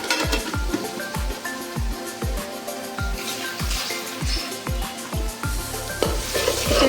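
Ginger-garlic paste fries with browned onions in a pan for a prawn bhuna, a loud close sizzle broken by a steady rhythm of repeated spatula scrapes and stirring knocks.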